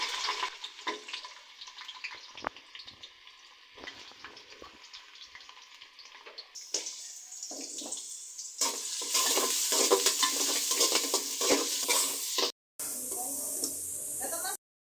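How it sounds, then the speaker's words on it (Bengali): Onions fry in oil with cardamom, cloves and cinnamon for pulao, a soft sizzle under repeated scraping stirs that swells into louder, brighter frying partway through, with brief pauses near the end. "এখন দিয়ে দিলাম পেঁয়াজ"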